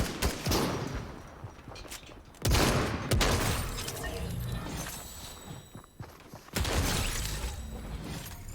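Fortnite structures being smashed apart in gameplay, bursts of crashing, shattering and impact noise that flare up at irregular intervals over a busy, loud game backdrop.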